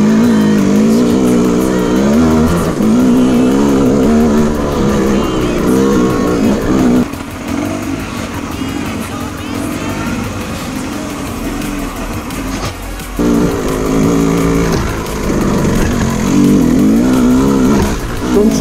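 An enduro dirt bike engine drones loudly and continuously on a single track trail, revving up and easing off as the rider climbs, close and dominant throughout.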